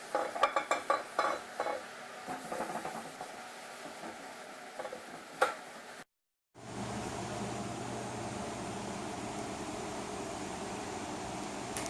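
Clanking of cast iron pans being handled as one set is pulled from an oven and another set is put in, with scattered metallic knocks up front, a short gap of silence, then a steady fan-like hum for the rest.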